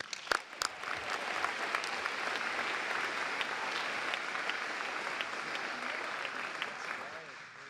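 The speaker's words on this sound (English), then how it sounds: "Please join me in giving her a round of applause." Steady applause from a room full of people at the San Jose State of the City address, with a few sharper claps at the start, sustained evenly for several seconds before tapering.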